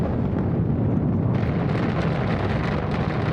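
Rocket launch in Stationeers: a steady, loud, roaring rumble of engine thrust fills the whole stretch without break, with a slight lift in hiss partway through.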